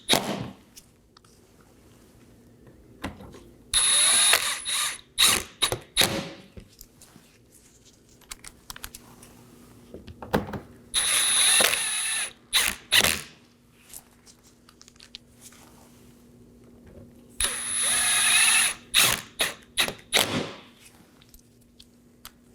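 A ratchet snugs down 7mm bolts beneath a 2018-2024 Chevrolet Equinox front bumper during an A/C condenser replacement, heard as three separate bursts of quick, close metallic clicking with quiet pauses between.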